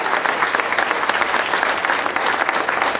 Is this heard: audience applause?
yes